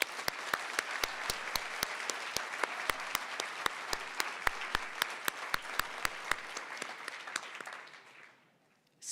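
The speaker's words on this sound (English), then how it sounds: "one more round of applause" Applause from an audience at a Montana State University nursing pinning ceremony: dense clapping with sharp individual claps standing out, steady for several seconds, then fading away to near silence at the end.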